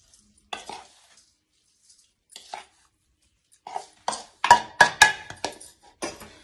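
A spoon stirs and scrapes ground spices into a mixed vegetable pickle in a metal vessel, giving irregular clinks and scraping strokes that grow busier and louder toward the end, close up with no talking.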